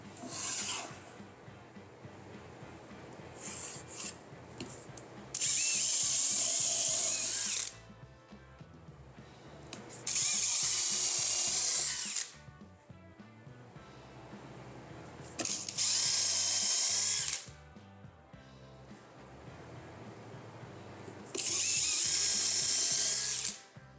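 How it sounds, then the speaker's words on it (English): A power drill with a countersink bit bores screw holes in a pocket hole jig workstation, four loud whirring bursts of a few seconds each, separated by quieter clicks and handling noises. "And a quick drill with a countersink bit."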